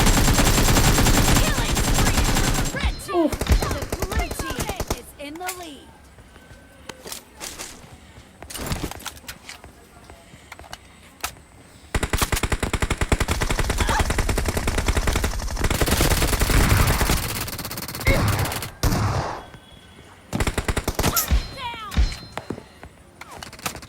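Bursts of rapid automatic gunfire in a video game crackle loudly in long sustained streams separated by short pauses, with a voice talking in the quieter gaps.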